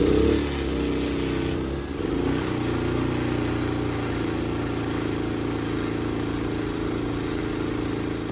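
A 7500 watt portable generator runs steadily nearby, its engine drone constant and unbroken throughout, with a brief shift in tone early on.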